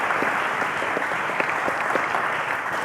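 A quiz-show studio audience claps steadily in dense, even applause that holds at a moderate level throughout, with no voices over it.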